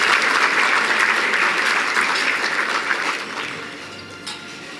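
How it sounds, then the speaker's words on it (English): A gala audience gives the catering team a dense, loud round of applause that starts full and gradually tapers off over a few seconds. "Please give them a round of applause."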